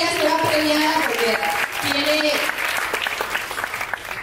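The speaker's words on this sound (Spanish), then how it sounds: "te doy un fuerte aplauso" An audience at a business talk gives a brief burst of clapping, with voices calling out over the applause, which thins toward the end.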